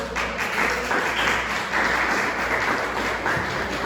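Congregation at a church service breaking into steady, dense applause that holds evenly throughout, moderately loud with no talking over it.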